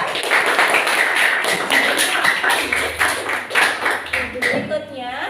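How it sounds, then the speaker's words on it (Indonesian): A classroom of students claps for group 2 with a sustained burst of close, sharp hand claps and taps, while a voice speaks over it. "Beri tepuk tangan untuk kelompok 2."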